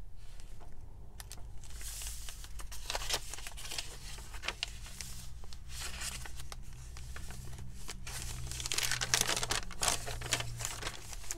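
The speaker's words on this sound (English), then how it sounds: "If you like crinkle, there's plenty of it in this journal." Textured pages of a floral journal being flipped and handled, producing continuous close crinkling and rustling with denser bursts of papery crackle toward the end.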